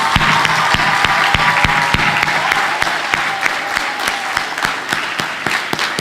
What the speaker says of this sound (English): I want you all to give her a tremendous round of applause.